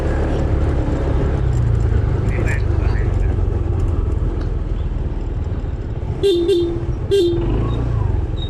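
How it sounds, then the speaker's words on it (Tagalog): Two short car horn toots near the end, over steady road and engine rumble with people talking nearby. "Bumubusina kami."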